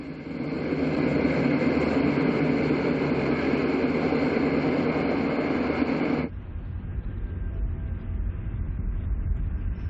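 Diesel locomotives and railroad cars grind and rumble steadily while being switched in a yard, then the sound drops abruptly to a lower, duller roar partway through. No voices are heard.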